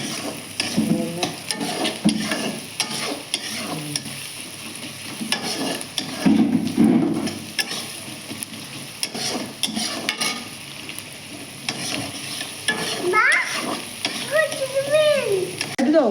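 Onions with chilli frying in a pan for a Bengali home-cooked dish, a continuous moderate sizzle with stirring scrapes running throughout, under intermittent talking.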